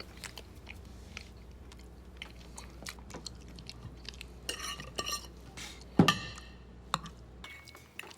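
Crunchy chewing at a family dinner table, onion mixed with chocolate, with soft bites and mouth noises, a few clinks of cutlery and dishes, and one sharper crack near the middle, close and without talk.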